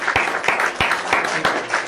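An audience claps to welcome a speaker to the stage at a training class, with sharp hand claps landing in a steady, even rhythm over a softer spread of scattered applause.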